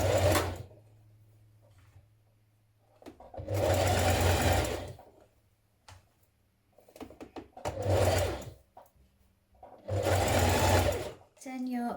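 A sewing machine stitches binding onto a knit dress neckline in three loud, close bursts of rapid whirring and clatter, with quiet pauses between them.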